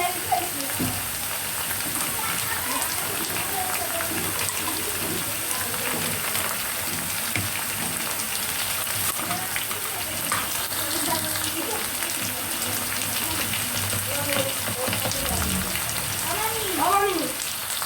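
Large chopped tomato pieces go into cow belly frying in a pan for biran, with a constant crackling sizzle throughout. A person talks over the cooking noise.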